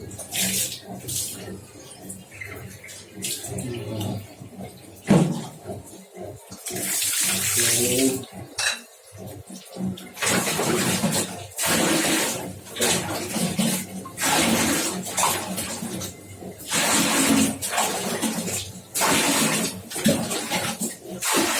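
Steady running water from a tap while a lovebird is bathed and its cage is cleaned, a continuous close splashing rush with brief breaks, and a voice speaks at times over it.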